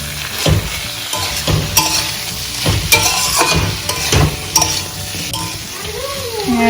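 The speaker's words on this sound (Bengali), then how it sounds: "এবার নাড়িয়ে চাড়িয়ে এর মধ্যে লাউটা দিয়ে দেবো।" A spoon stirs ginger paste with turmeric and coriander powder in a hot pan: close, loud sizzling with repeated scraping strokes in an uneven rhythm.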